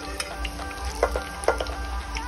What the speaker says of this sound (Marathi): तर पहिले तेल टाकलाय आणि लसूण टाकून घेतलाय त्याच्यात, बघा तुम्ही.